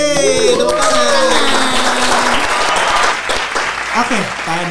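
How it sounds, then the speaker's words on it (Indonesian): Studio applause from a small group of people fills the whole few seconds, loud and continuous, with overlapping voices and whoops mixed in. "Hei, tepuk tangan."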